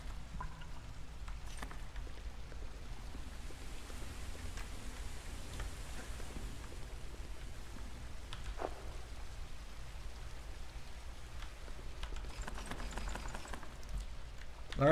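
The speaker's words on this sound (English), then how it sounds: "I guess I'm waiting until the rain ends." Steady rain falls continuously in the video game Howler, a soft even patter with occasional louder drips throughout.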